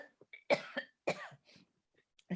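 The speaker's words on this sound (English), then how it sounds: "I'm just going to have to cough here." A single person coughs close by, a short burst of two or three harsh coughs followed by a quieter throat-clearing, with silence between.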